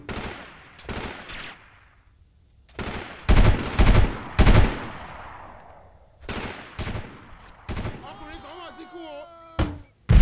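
Burst-mode gunfire in the video game Delta Force 2, loud clustered bursts of rapid shots separated by pauses, with sharp cracks and a fading rumble, and a few more bursts near the end.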